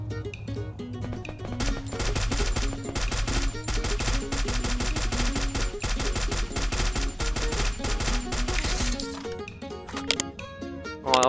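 Rapid automatic gunfire rattles in long, steady bursts in the mobile shooter Free Fire; it is loud and close, stops near the end, and is followed by a few scattered shots.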